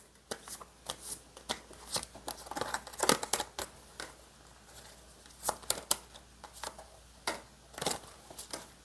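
Tarot cards being shuffled and drawn close up, with crisp, irregular bursts of riffling and snapping card flicks separated by brief quiet gaps.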